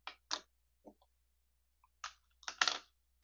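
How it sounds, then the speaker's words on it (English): Tape runner laying adhesive onto cardstock for a layered horse shadow box craft: a few short, crisp close clicks and sticky rasps in separate bursts, with quiet gaps between. "I'm going to put tape runner"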